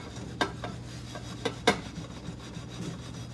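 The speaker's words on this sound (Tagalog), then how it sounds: "Konting kuskus lang." A Pyrex cooking dish with spilled-on food is scrubbed, producing faint scattered rubbing and scraping strokes with a few sharper knocks and a low steady hum beneath.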